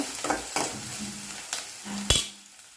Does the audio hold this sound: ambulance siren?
no